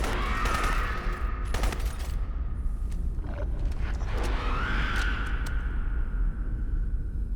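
Rapid bursts of gunfire ring out in the video game Crysis, loud and close, with several sharp volleys and whooshes over a constant background rumble.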